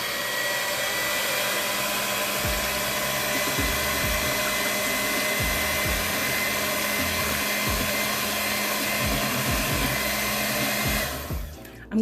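A steady electric mixer whirs continuously for several seconds, blending apple butter custard pie filling made with Bailey's, a loud even drone that cuts off abruptly at the end, with no talking.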